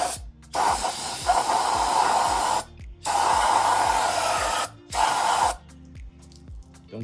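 Spray cleaner blasting an oil pickup screen from a Civic Si sedan in loud, steady hissing bursts, three long sprays separated by short pauses, with a rhythmic mechanical ticking running underneath.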